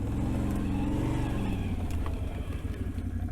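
An ATV engine runs steadily on a wooded forest trail, a close, loud, low rumbling drone that shifts in pitch as the vehicle moves over the terrain.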